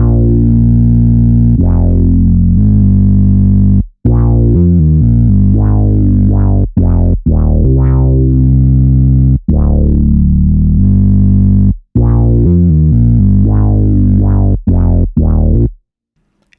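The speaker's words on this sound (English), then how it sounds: "With that saturation and this applied, the bass sounds like this." Heavy saturated bass line from a remake of a song, EQ'd to cut the deepest lows and highest highs and pumped by sidechain compression; loud sustained notes with sliding pitch that drop out briefly in rhythmic gaps.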